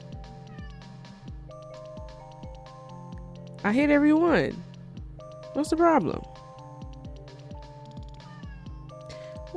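A cat in a room during a malVIOLENCE gameplay session gives two drawn-out meows, the first longer and louder, the second shorter, over a steady game music loop while a person talks.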